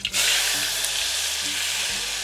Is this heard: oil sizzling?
yes